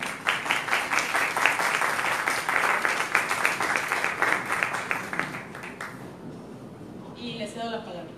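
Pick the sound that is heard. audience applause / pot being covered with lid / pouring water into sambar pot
audience applause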